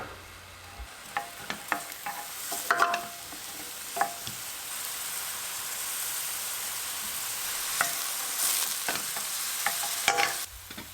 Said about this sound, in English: Finely diced my onion and begin to saute.